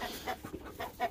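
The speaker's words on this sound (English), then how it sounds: "Chickens are scared." Chickens at night on a farm cluck in a few short, close, uneven bursts, roughly four soft calls within about a second, with no voices.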